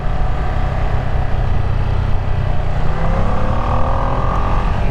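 A 2025 Ducati Panigale V2 motorcycle engine drones steadily and loudly while being ridden, a continuous close roar with slight rises in pitch and no talking.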